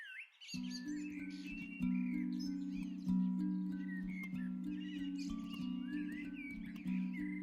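Birds chirping in a park near a house in Peru, thin high calls scattered over a steady, loud droning tone that runs throughout, with no voices.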